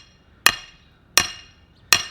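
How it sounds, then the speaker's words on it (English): A hammer taps a party tent stake into the ground: three sharp, ringing strikes spaced evenly about three-quarters of a second apart, close and loud, with quiet between them. "let me go ahead and nail this down. The easiest way I find is to give it a few taps."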